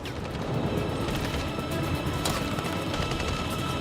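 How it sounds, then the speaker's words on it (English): Continuous dense gunfire as covering fire in the video game Detroit: Become Human, a steady loud barrage of shots and impacts with no clear gaps. "Covering fire."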